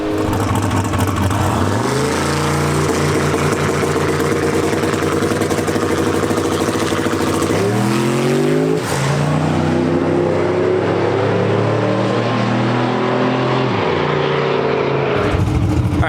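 An 88mm turbo V8 Jeep engine at full throttle, loud and close, revving hard in long rising sweeps with brief dips between pulls and a sustained roar throughout.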